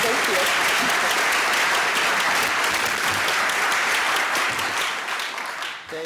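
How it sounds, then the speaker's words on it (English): Audience applause fills a lunch keynote hall at an entrepreneur expo, dense steady clapping from a large crowd that carries on loud for several seconds before thinning and fading out near the end. "If we can give them a round of applause."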